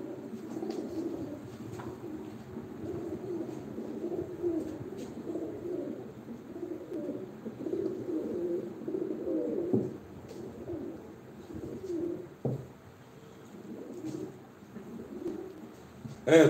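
Pigeons at a live bird auction, a steady low cooing from several birds throughout with soft rustles and occasional knocks, moderately close, no clear talk.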